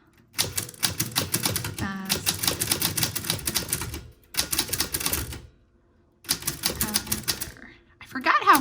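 Keys clatter on a manual typewriter in rapid, uneven bursts of sharp strikes, close and loud, separated by short pauses, with a carriage sound near the end.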